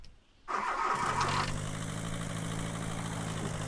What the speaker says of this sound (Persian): آقا برو بریم ماشین رو بزنیم و بریم.